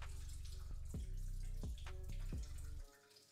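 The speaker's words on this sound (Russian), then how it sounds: "устал рис промывать" Cold tap water running steadily into a bowl of rice being rinsed in a home kitchen, with a few splashy swirls and knocks before the flow cuts off near the end; close and fairly loud.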